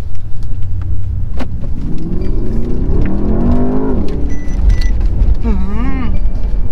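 A 2019 Brabus 800 engine in sport mode revs in rising and falling sweeps, loud and close, with a deep rumbling exhaust and a sharp final blip near the end.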